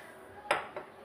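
A kadai on a stove gives a single sharp metallic clink, followed by a fainter second knock against a quiet kitchen background.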